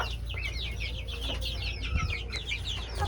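A farm hen that had been limping clucks in a quick run of high, chirpy notes over a steady low hum, with a brief louder burst midway.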